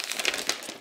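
Plastic wrap crinkles as it is peeled off a new aluminium Logitech keyboard, a brief, close and continuous rustle with no talking.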